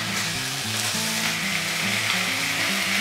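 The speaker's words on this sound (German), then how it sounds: "dass die Rouladen von allen Seiten richtig schön doll angebraten werden" Beef rouladen sear in a hot pan with a loud, dense, continuous sizzle close by, steady throughout with no talking.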